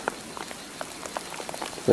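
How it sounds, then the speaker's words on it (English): Rain falls in the bush, scattered drops tapping on nearby surfaces and foliage in an irregular patter, fairly quiet, ending with a louder rustle or voice at the close. "It's raining now."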